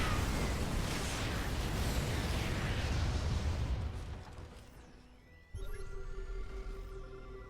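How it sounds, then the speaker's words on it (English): Tanks firing during a StarCraft II match, heard as a dense, rumbling barrage of booms and explosions that thins out and then gives way to quieter game sounds. "The tanks firing away."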